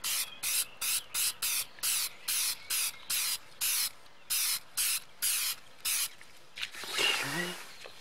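Short bursts of aerosol acrylic spray hissing in a quick, regular rhythm, about a dozen puffs close up, followed by a brief voice.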